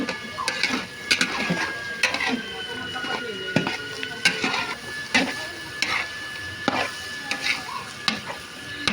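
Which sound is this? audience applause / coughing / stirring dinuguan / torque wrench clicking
stirring dinuguan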